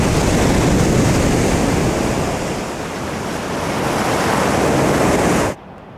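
Ocean waves break against a cliff coastline on the Pacific Ocean, a loud continuous roaring wash of surf that swells and eases before cutting off abruptly near the end.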